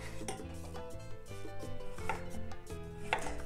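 Knife slicing a cucumber into rounds on a cutting board for a quick cabbage salad, a quick series of sharp crisp taps and cuts, fairly close and quiet, with no talking.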